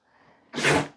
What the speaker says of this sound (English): Those were big sneezes.